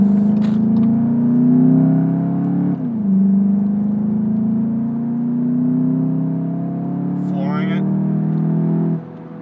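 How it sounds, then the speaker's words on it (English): A 2020 Volkswagen Jetta GLI engine with a 7-speed automatic drones steadily with a rising turbo whine as it accelerates, loud and close, easing briefly mid-way before pulling again. "Definitely hear a little bit of that turbo whine."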